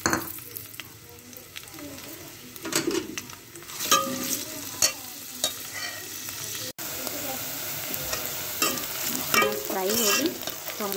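Onion dropped into hot oil for a cauliflower and potato curry, a loud continuous sizzle with repeated scraping stirs and clatters of a spoon against the pan, close by, with a voice talking over parts of it.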